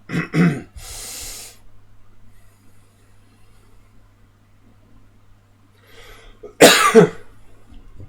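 A person recovering from the flu coughs in two short rough bursts at the start, then goes quiet for several seconds before one loud, close, harsh cough near the end.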